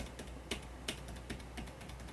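Keys clatter on a Logitech K780 Bluetooth keyboard in steady typing, a quick run of light clicks with a few sharper, louder strokes, heard close and alone with no talking.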